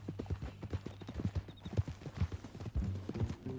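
Horse hooves clip-clop in a steady walking rhythm in the Red Dead Redemption 2 video game, close and fairly distinct throughout.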